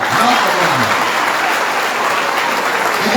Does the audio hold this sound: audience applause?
yes